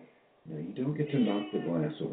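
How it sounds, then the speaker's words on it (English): A pet cat meows close by, a few short calls mixed in with a person speaking indoors. "That's my cat."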